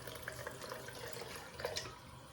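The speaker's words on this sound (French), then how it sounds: "Hop, on lui met de l'eau, que ses racines ne sèchent pas pendant la nuit." Water is poured onto a plant's roots during a spring cleaning session, a soft, faint, steady trickle and splash heard up close.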